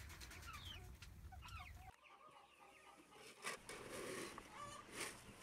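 Young chickens, future laying hens with a couple of roosters, cluck and chirp close by in a steady flurry, with a brief rustle partway through and no talk.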